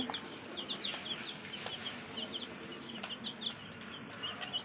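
Young tiger chicken chicks, about a week old, peep and cluck continuously inside a cage, with soft, high chirps repeating over a low ambient hum.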